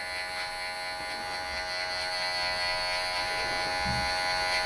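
Hair clippers with the guard off buzz steadily up close while cutting hair during a long-to-short haircut, a constant electric drone with faint changes in tone as the blades meet hair.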